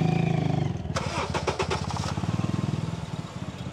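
A used car at a used-car fair in Caruaru, Pernambuco, is started: a starter crank and catch, then a steady, rhythmic idle that runs close and fairly loud with no talk over it.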